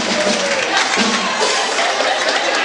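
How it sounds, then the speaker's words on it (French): A church Christmas audience cheering and applauding Sunday school performers, a loud, dense, steady wash of clapping and crowd noise that fills the whole moment. "On les acclame encore plus fort"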